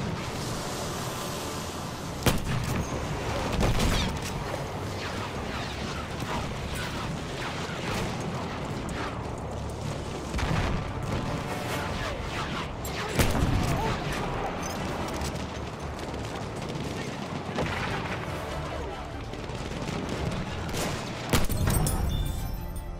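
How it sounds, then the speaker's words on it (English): Martini-Henry rifle fired inside a building in Battlefield 1, a few sharp, heavy reports spaced several seconds apart amid ongoing battle noise, distant gunfire and booms, with a voice talking at times. "This gun just sounds so good when it's inside a building"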